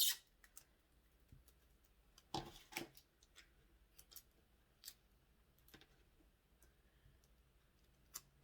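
Scissors snip small pieces of paper while preparing a sublimation 20 oz tumbler, giving quiet, scattered cuts and light clicks in an otherwise hushed room.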